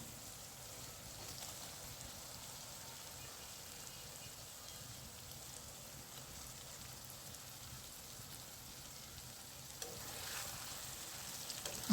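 Dried Bombay duck fish sizzling steadily in a pan of spicy curry with chilli, a dense continuous frying hiss that swells slightly near the end, with no talk.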